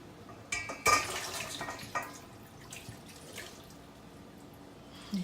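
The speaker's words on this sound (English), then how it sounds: "You put the juice and everything out of both of the cans" Canned corn is poured out with all its juice for smothered pork chops, giving a wet, sloshing splash and dripping near the start that fades into softer liquid trickles and clinks, close up in a home kitchen.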